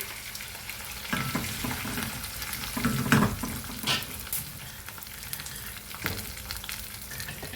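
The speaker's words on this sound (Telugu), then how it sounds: "ఇది పేస్ట్ వేసుకున్నానండి." Ginger-garlic style paste sizzles in hot oil with curry leaves for Andhra lemon rice, a steady close crackle broken by a few louder spoon scrapes and stirs, with no voices.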